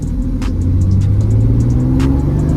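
Mercedes C32 AMG engine at full throttle, a loud, close, low rumbling drone whose pitch climbs slowly as the revs build, steady and continuous for a couple of seconds.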